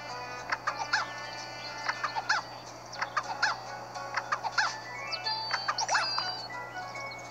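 Chickens clucking and calling in the farming video game Townkins, a scattered series of short squawks and clucks over a steady low hum, with no talk.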